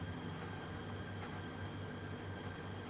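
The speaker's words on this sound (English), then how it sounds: "I'm on the subway" A Hong Kong subway train rides along with a steady, loud rumble and hum from the carriage, with no talk.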